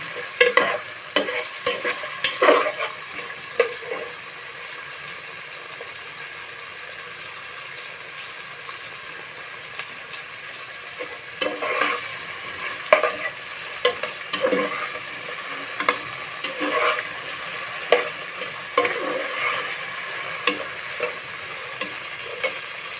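Pieces of fresh rohu fish fry slowly in oil, giving a continuous crackling sizzle that runs the whole time, with frequent sharp pops and the occasional clack of a utensil. No one speaks.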